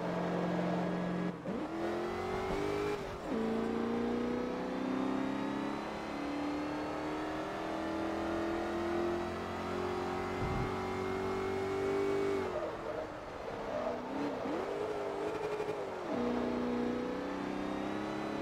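An SUV in Forza Motorsport 3, a four-speed with a tall cruising top gear, revs steadily with its engine note climbing through long gear pulls, dipping briefly at each shift, loud and continuous with no talk.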